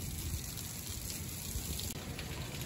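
Steady broadband spray of water rinsing dirt off an air conditioner condenser coil during service of a large commercial cooling unit at a government building, a continuous close hiss and patter with no break.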